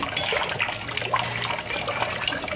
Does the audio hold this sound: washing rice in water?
yes